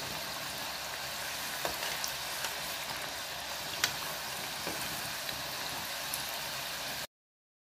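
Medu vada, crispy fasting-style farali version, frying steadily in hot oil over medium flame, a dense continuous sizzle with small pops and crackles throughout, close and even in level before cutting off.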